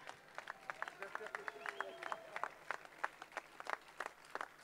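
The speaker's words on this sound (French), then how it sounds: "Ça mérite bien 5 secondes d'applaudissements supplémentaires." Rhythmic clapping at a union rally, sharp hand claps repeating in a steady patter over several seconds while a voice keeps talking underneath.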